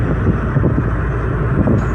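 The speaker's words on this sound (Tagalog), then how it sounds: "Grabe yung hangin, umuugong." Strong wind roars and buffets continuously, a loud, steady rushing with gusty low rumble throughout.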